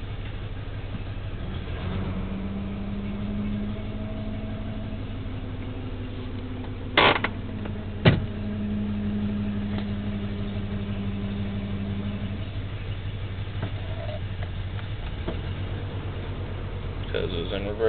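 A four-wheel-drive regular-cab long-box pickup truck with a failing fuel pump idles roughly at low RPM, a steady low rumble with a faint knock and a couple of sharp clanks, while someone talks over it.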